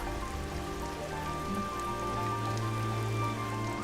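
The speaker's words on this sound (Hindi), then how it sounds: "देख नहीं रही हो कितनी बारिश है?" Heavy rain pours steadily in an animated scene, a dense, even hiss of drops on surfaces that holds at the same level throughout with no voices over it.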